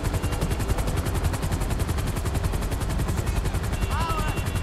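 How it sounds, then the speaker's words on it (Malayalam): A helicopter in the video game GTA 5 gives a steady, loud rotor chop, rapid rhythmic thumping over a dense roar, continuous throughout, with a brief higher chirp near the end. "അങ്ങനെ ലാമറിനെ ഹെലികോപ്റ്റർ കയറ്റി അവർ കൊണ്ടുപോകുന്നുണ്ട്"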